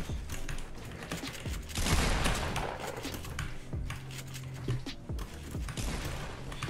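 Rapid gunfire bursts in the video game Fortnite, sharp clustered cracks with clicking mechanical sounds between them, mid-loud and alone.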